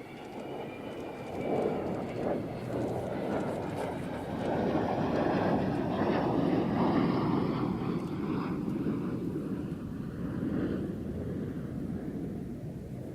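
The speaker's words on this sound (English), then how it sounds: "What a takeoff." Airplane taking off, a steady broadband engine roar that swells and holds loud throughout, with no talking.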